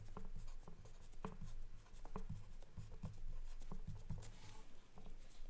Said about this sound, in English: let me write that down so you know we're evaluating